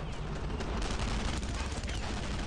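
Dense, rapid machine-gun fire from an MG in the World War II shooter Brothers in Arms: Road to Hill 30, a loud unbroken fusillade of overlapping shots filling the whole moment at close range.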